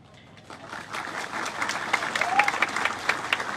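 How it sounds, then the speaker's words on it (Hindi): A crowd applauding at a political rally, clapping swelling from light to steady and fairly loud over a few seconds. "आप लोग ताली मार रहे हैं"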